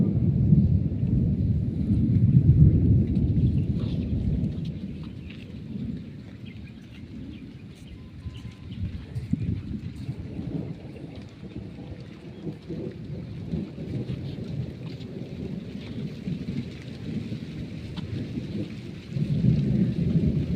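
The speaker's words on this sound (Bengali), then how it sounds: "বৃষ্টি এসে গেছে" Thunderstorm with rain over a quiet, deserted hilly forest road in Odisha, with deep rolling thunder rumbles swelling near the start and end over a steady wash of falling rain, fairly loud and without talk.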